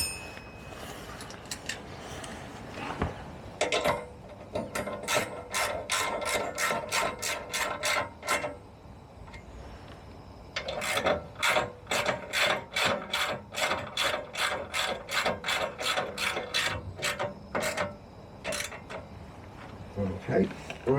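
A hand ratchet tightening bolts on a 1980 Suzuki FZ50 motorcycle during restoration, close and crisp, in several long runs of rapid rhythmic clicking strokes separated by short pauses.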